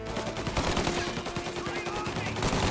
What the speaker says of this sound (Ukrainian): Хтось стріляє з боку, хтось стріляє з боку.